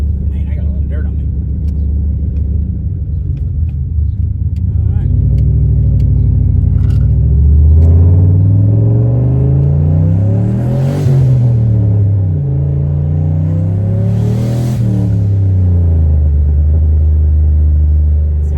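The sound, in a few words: Ford Mustang aftermarket exhaust rumbling during test drive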